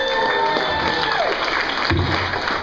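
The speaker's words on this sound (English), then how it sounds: "give him a big round of applause" Audience applause for a speaker in a hall, a brief burst of clapping with some crowd noise, fairly close and steady.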